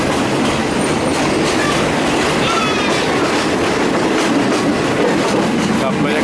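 A passenger train pulls into Surat Thani station on the Mok Khiri Ratthanikhom line, its loud, steady rumble of rolling wheels and carriages filling the air with faint clatter and a possible brief wheel squeal.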